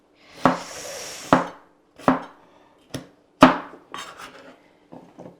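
A knife chops red paprika on a board in about six separate crisp thuds at an uneven pace, close and clear against near silence.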